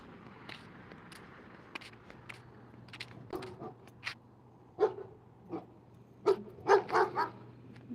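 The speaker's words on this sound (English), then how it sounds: "I'm gonna turn back because there's a dog. It doesn't sound like it likes me." A dog barks several times at a distance on a beach at night, sharp bursts growing more frequent and louder toward the end over a low steady hum and faint background noise.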